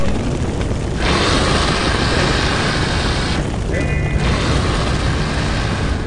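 In the video game Evil Genius, a continuous barrage of gunfire and booming explosions rumbles loud and dense for several seconds, surging and dipping in intensity, with a voice mixed in.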